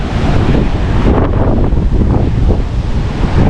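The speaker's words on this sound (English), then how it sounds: "It's really windy." Strong coastal wind buffets the microphone at the El Morro fort in San Juan, a constant loud roar mixed with crashing surf below, with no voices.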